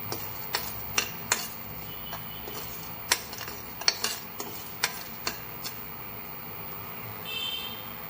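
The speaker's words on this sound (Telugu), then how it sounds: "చెక్క, లవంగాలు, గసగసాలు వేసుకొని మనం లైట్గా ఫ్రై చేసుకోవాలి." Cinnamon, cloves and poppy seeds are lightly dry-fried in a pan as a masala for stuffed brinjal curry, with sharp intermittent clinks and taps of a utensil stirring against the pan over a quiet background.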